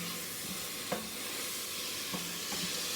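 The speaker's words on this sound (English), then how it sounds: "You gotta keep stirring when you're sauteing." Onions sauté with smoked turkey neck in a pot, a soft even sizzle with a couple of faint utensil scrapes as they are stirred.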